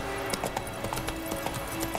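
Horse hooves gallop in The Witcher 3, a steady, rapid clip-clop running beneath a bed of game music and ambience.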